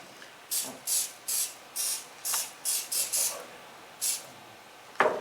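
Short bursts of spray from a small can of instant-glue activator, about ten quick hisses at a steady rhythm, close and distinct in a quiet room, ending with a louder knock.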